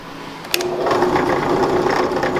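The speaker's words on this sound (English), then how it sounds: "I'm going to go ahead and countersink these now." Power drill whirring steadily as an 82-degree countersink bit bores into acrylic holes, a short click at the start, then a continuous close, fairly loud motor drone with no talk.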